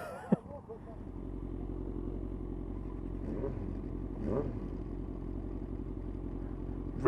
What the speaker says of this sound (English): These people with loud bikes.